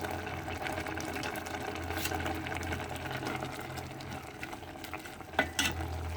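Drumstick leaf dal curry with turmeric being cooked and stirred in a pot, with a steady low hum under soft bubbling and scraping, then a couple of sharper spoon knocks near the end, no speech.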